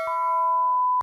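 A notification bell sound effect: one bright, clean ding that rings steadily for about a second before cutting off, with no voices.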